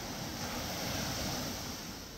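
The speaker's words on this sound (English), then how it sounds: "The waves really come out." Ocean waves wash steadily onto Punta Uva beach in Costa Rica, a continuous soft roar of surf with some wind, faint and unbroken.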